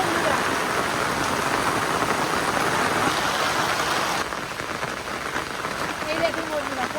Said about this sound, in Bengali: যত বেলা বাড়ছে বৃষ্টি তত বাড়ছে বন্ধুরা।